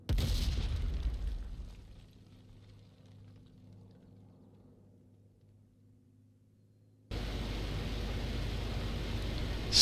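A bomb blast on a Panzer IV tank in the IL-2 Great Battles flight game opens loud and broad, decays into a low rumbling tail with droning engine hum, then a loud noisy roar returns abruptly near the end.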